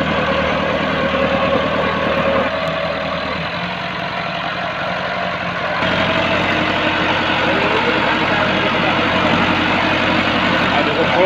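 A Massey Ferguson 375 tractor drags a five-tine chisel plough through a field in Punjab, its diesel engine droning steadily and loud close by, the pitch and load shifting slightly midway.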